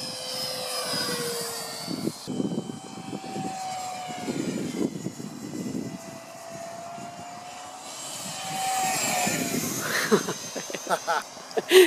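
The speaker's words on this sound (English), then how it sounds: "Listen to that thing, it's just whisper quiet. For an EDF, these things are usually really loud." A Banana Hobby BlitzRC 50mm Viper electric ducted fan RC jet flying by with a fairly soft, airy whine that rises and falls at a distance, with people talking over it.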